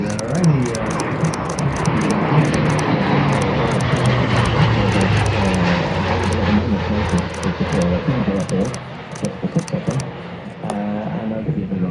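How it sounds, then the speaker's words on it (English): C-27J Spartan military transport's turboprop engines roar steadily during takeoff preparations at an air show, a loud continuous drone with rhythmic ticking bursts, while a commentator talks over it. "as the C-27J Spartan lifts its ramp and gets ready to take off"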